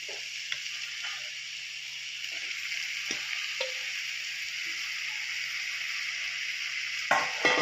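Steady oil sizzle from chicken frying in a pan, with occasional clinks of a utensil stirring, then a louder clatter near the end.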